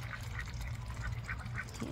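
Young ducks quack in and around water during monsoon rain, several short nasal calls repeating irregularly at moderate distance over a low background hum.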